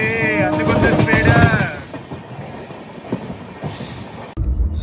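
An express train runs at speed past a local train, its loud rumble and rail noise filling the first seconds before settling into a steadier, quieter roll with a sudden shift near the end.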